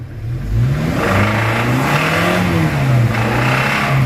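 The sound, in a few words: faulty Toyota Innova engine knocking while revving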